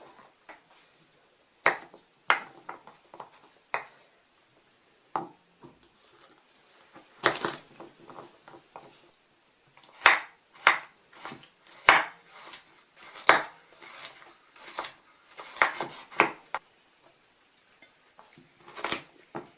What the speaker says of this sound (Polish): Marchew i pietruszkę pokroję w półplasterki.